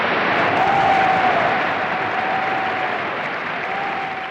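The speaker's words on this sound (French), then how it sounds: "Les acclamations se sont tues" Crowd applause with a steady roar of clapping at a wartime Free French gathering, sustained and full, slowly thinning toward the end, with a faint thin tone running underneath.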